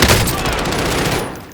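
Rapid, sustained gunfire from a shooting video game fills the whole stretch as one dense, loud barrage of overlapping shots, tailing off slightly at the end.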